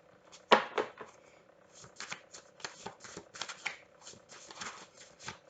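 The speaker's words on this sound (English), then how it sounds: "Let's pull some Oracle message cards first." Oracle message cards shuffled by hand in a quiet room, a run of quick papery riffles and taps that come close and clear, with short pauses between bursts.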